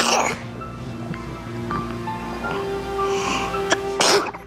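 A person sneezes loudly and close by, a sharp burst at the end of a short stretch of quiet room tone.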